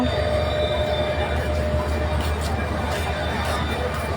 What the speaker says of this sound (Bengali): আমাদের ট্রেনটা এইটা সম্ভবত আসতেছে